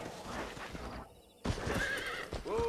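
A horse in the video game Red Dead Redemption neighs clearly with rising and falling whinnies, mixed with clip-clop hoofbeats, a brief near-silent gap, then further neighing close by.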